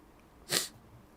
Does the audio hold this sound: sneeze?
yes